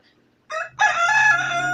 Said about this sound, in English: Yeah, that's a cock.